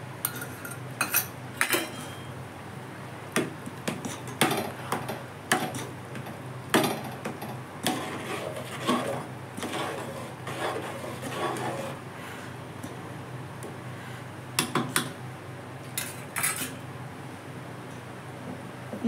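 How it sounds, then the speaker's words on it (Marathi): Spoon stirring and scraping inside a metal cooking pot while making Hyderabadi chicken mandi, repeated sharp clinks and scrapes in irregular bursts, close and fairly loud, no talk. "पण मी आता अशी हलवून घेणार आहे."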